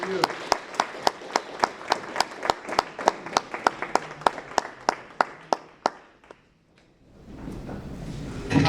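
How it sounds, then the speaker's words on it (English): An audience at a talk on Fatima, Nietzsche and Christ the King applauds the speaker with a steady run of close, sharp, evenly spaced claps that thins out after about six seconds, followed by low room murmur. "Let's give our speaker, Mr. Bocca, a great big round of applause"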